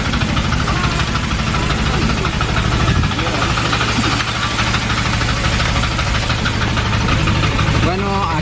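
A motorcycle engine runs on a route through a landslide zone toward Lago Agrio, a loud continuous rumble with a knocking, idling texture that fills the whole stretch, with some talk mixed underneath.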